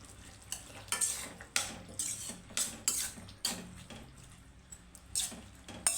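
Softened potato pieces mashed and stirred into a curry gravy for hotel-style puri kurma, with repeated scraping and clinking strokes of a utensil against the pot in an uneven rhythm, close and fairly clear, no talking.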